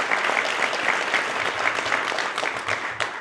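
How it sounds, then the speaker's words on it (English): Audience applause at a police department promotion ceremony, a dense, lively burst of many hands clapping close by for about three seconds with no talk over it. "Round of applause."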